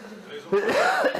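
A man gives one short harsh cough and clears his throat, a brief close burst after a moment of quiet.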